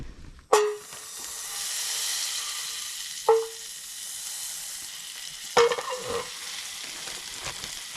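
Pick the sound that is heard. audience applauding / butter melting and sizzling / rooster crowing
butter melting and sizzling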